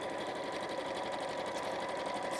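Steady, continuous whir of a sewing machine running a long stitch through thick fabric, sewing close to the edge within a seam allowance, close and even throughout with no voices.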